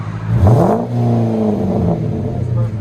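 Chrysler 300 5.7L HEMI V8 with a new exhaust revving: one quick rising blip of deep exhaust roar that falls back to a throbbing idle, close and loud, with faint voices underneath.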